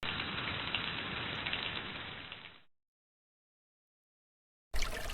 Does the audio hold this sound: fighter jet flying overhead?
no